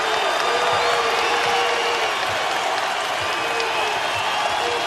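A basketball arena crowd at the Rock in New Jersey cheers and applauds loudly and steadily throughout, with whoops over a dense wash of clapping during an NCAA game between Louisville and Seton Hall.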